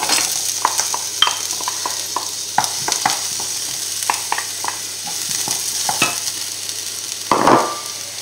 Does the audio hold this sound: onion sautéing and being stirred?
yes